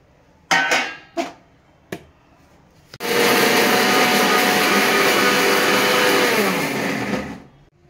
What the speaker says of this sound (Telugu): ఇట్లా బరకగా నూరుకోవాలి